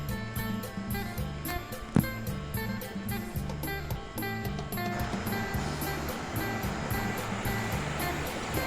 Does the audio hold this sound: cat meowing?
no